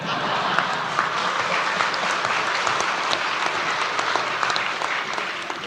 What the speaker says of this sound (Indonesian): Tolong kalau tepuk tangan jangan ragu-ragu ya.